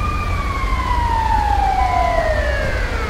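Ambulance sirens wail in the police game GTA LSPDFR, loud and close, with two overlapping tones sweeping slowly downward over a low vehicle rumble.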